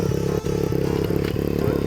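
A dirt bike engine with a broken kill switch revs hard and steadily at close range, a continuous buzzing drone with rapid pulsing, briefly dipping once before climbing again.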